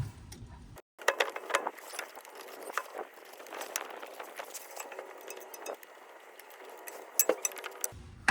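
A hex Allen key works corroded screws loose on a Honda electronic parking brake, giving close metallic clicks, clinks and ratcheting taps in an irregular run, with no talk over them.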